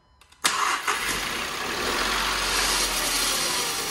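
A salvage 2016 Audi A1 engine cranks with a brief whirr, then catches and settles into a steady, close, loud idle heard alone for several seconds.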